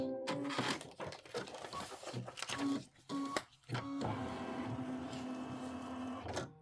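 Embroidery machine sewing down fabric on a decorative hot pad, making a busy mechanical whirr with rhythmic needle clatter and intermittent stops and starts, close and moderately loud.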